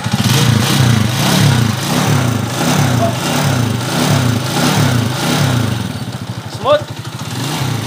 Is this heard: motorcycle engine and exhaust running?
yes